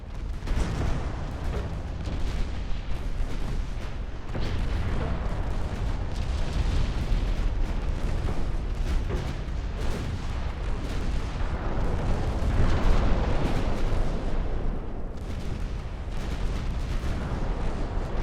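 Warship main and secondary guns firing together in the naval game Ultimate Admiral Dreadnoughts, a continuous rumbling barrage of heavy booms and overlapping blasts, loud and unbroken throughout.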